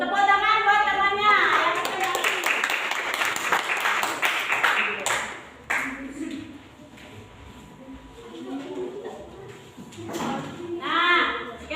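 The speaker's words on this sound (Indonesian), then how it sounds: "Tepuk tangan buat temannya." Classroom of children claps for a classmate who has just presented, a burst of quick hand claps up front, then fading into children's chatter and voices with some scattered clapping returning near the end.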